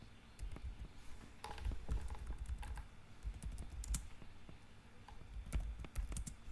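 Quiet, close keystrokes tap on a computer keyboard while typing in a terminal, an uneven patter of soft clicks over low room hum.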